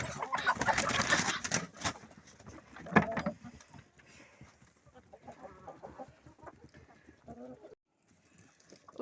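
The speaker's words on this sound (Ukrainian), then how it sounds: "От качурики." A flock of ducks and drakes in a farm shed at evening feeding time. A loud burst of calls and fluttering opens, then steady chattering quacks follow, with a person's voice faintly in the background.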